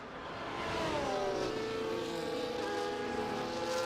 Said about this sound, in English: That Ferrari engine. Which actually sounds good in this game.